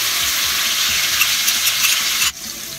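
Onion, ginger, garlic and green chili fry steadily in a pan, a loud continuous sizzle with small crackles that cuts off sharply near the end, no voices.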